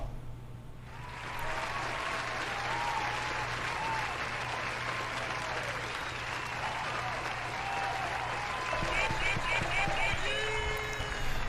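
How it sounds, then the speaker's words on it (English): A crowd applauds steadily for several seconds at a poker tournament final table, dense clapping that swells after a quiet start, with some voices and cheering mixed in. "Let's get a round of applause."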